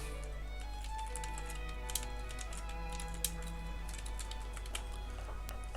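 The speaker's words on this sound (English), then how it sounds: "Let's type a title." Typing on a computer keyboard: quiet, irregular keystroke clicks scattered over a low steady hum, with no speech.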